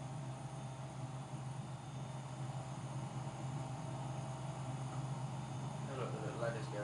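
A Cessna Caravan turboprop at full throttle in Microsoft Flight Simulator X, a steady droning engine hum with a constant low tone, faint and unchanging, while someone talks over it.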